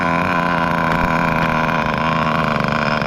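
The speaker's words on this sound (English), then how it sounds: "Let's let it idle a little bit there." Kyosho V-One RR nitro RC car with an OS 12TR engine idling, a steady loud buzzing drone with dense even harmonics and a slight flutter, heard close and alone.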